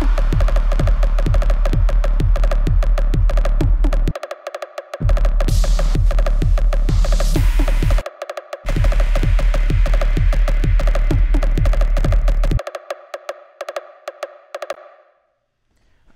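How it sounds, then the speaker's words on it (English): An EDM percussion drop hits loudly with a pounding, repetitive electronic beat and a sustained synth tone, cut by short silent breaks, then fades out at the end. "that percussion sound you just heard is what I'm going to show you guys how to make"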